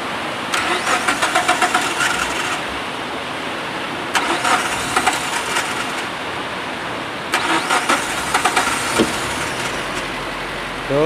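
A car engine with a fault that makes it stall when revved is started and run for a test, with loud repeated cranking bursts that catch into a rough running idle and short revs.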